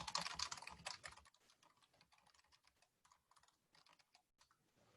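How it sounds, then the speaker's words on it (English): Faint, quick typing on a computer keyboard, a dense flurry of key clicks at first that then thins into sparse, irregular taps. "I'll just type my email real quick here."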